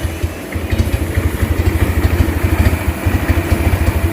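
An engine idles at high revs, close and loud, with an uneven pulsing rhythm that keeps surging and dipping as it runs rough, and no voices over it.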